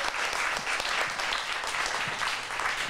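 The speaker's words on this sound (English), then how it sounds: "let's give Doug a round of applause" Audience at an evening event on LGBT issues in the federal election applauds in a steady, even wash of many hands, fairly quiet and distant, with no speech over it.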